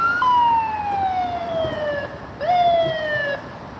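A wailing ambulance siren in Los Angeles sweeps downward in pitch, cuts off briefly, then rises and falls again; it is loud and fairly close, with no talking.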